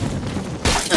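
A cover wall being destroyed in the Valorant video game, heard as a sudden loud bright shattering crash partway through the brief moment after a dull rumble.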